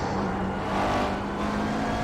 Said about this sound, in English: And the engine sounds insanely good.